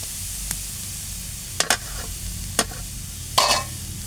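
Vegetables fry in oil in a pan, among them potato, pointed gourd and greens, under a constant low sizzle punctuated by four or five short scraping stirs from a spatula, close by and without speech.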